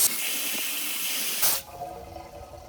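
Water is poured into a water pump to prime it: a loud rushing, hissing fill that surges briefly, then drops to a quieter gurgle and trickle.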